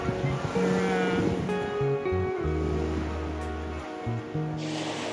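Waves wash steadily onto the shore at a Melbourne seaside, a continuous broadband surf with a faint wind rumble and a low tonal hum underneath, with no one speaking.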